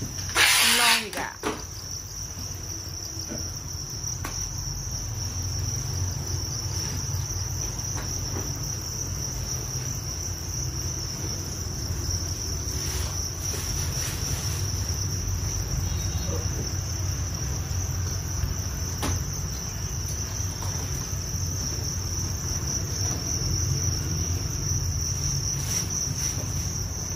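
Field crickets at a cricket farm keep up a steady high-pitched chirring trill for the whole stretch, with a low hum beneath and a brief loud knock at the very start.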